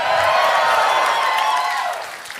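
A live podcast audience in Melbourne, Australia breaks into sustained, dense applause that holds steady for about two seconds and then begins to thin and fade.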